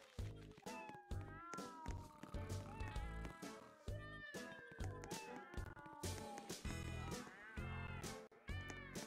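Repeated cat meows in a Roblox Five Nights at Freddy's game, a string of loud, close mewing calls coming in quick succession over game background sounds, with no talking.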